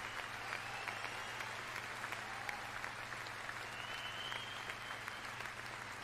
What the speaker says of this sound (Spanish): Todo el mundo aplaudiendo, todo el mundo de pie